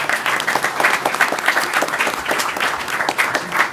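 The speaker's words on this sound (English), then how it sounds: "I'm going to round of applause to the parents that are in the room." A room of people at a youth government mock board meeting applauds in a steady, dense round of clapping that holds evenly throughout with no speech over it.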